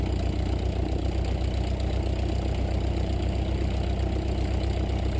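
A light aircraft engine idles at about 900 RPM before a flight from Kamloops to Shuswap Lake, a steady, loud, close-up drone with an even throb and no voices.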